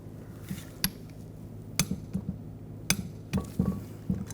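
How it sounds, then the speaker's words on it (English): A torque wrench tightens a bolt on the turbocharger exhaust manifold of a 2004-2009 Audi A4 Quattro 2.0L, a series of sharp metallic clicks and clinks at irregular intervals, close and fairly quiet. "now we're going to torque this to 25 foot-pounds"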